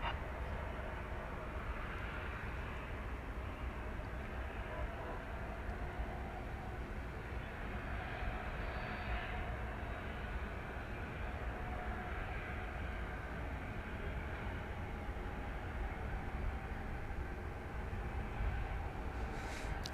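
An American Airlines jet takes off from runway 18 left at DFW airport, heard as a steady, distant engine roar that holds at an even level throughout, with no voices over it.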